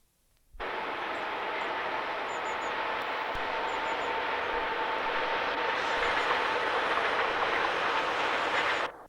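Freight train rolling past on a freight-only line near Rotherham, a sustained loud rumble and rail noise that starts abruptly and holds steady for several seconds before cutting off.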